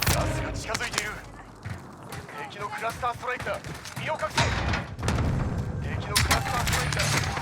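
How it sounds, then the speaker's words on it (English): Explosions and gunfire from an airstrike in the Call of Duty Warzone video game, bursts of shots and booms in irregular clusters, fairly loud, mixed under players talking over each other. "Ooh, man, that had an airstrike."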